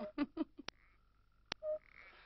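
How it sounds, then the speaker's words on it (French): Toads croak by a lake at night, with a few short separate croaks and a longer trilling call against a quiet background and no talking. "Ah, c'est vrai, j'entends les vocalises d'un crapaud."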